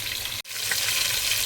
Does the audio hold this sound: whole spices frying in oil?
yes